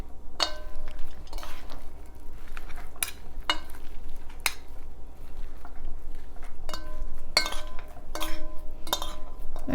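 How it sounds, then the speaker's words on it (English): Two spoons clink and scrape against a bowl as a meatloaf mixture of ground meat and egg is pressed together. The sharp metallic taps come in an uneven series, close up, over a soft background hum. "by using the 2 spoons, I kind of press the meat together"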